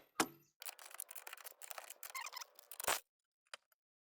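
A 17 mm wrench cracks loose four nuts on a Scarab 215 jet boat impeller housing, giving a quiet run of short metallic clicks and ratcheting scrapes followed by a couple of sharp isolated snaps in a still room.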